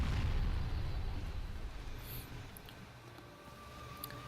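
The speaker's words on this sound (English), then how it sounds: "And then she does an explosion." A boss's explosion attack in Dark Souls, set in a giant forest, booms low and loud at the start, then rumbles and fades into a softer, lingering roar with faint high chimes.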